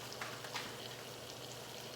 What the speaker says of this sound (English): let that simmer for a bit, fry up